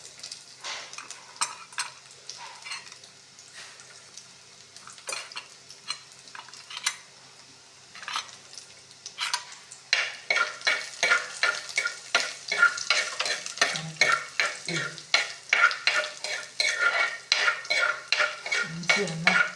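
Chopped ginger added to a hot pan with small onions and fried. A quiet stretch of scattered taps gives way to rising sizzle and rapid, rhythmic stirring scrapes, close and steady, with no talking.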